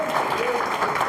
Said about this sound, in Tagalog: malakas nga po na palakpak na may kasamang pagpupuri sa kanyang pangalan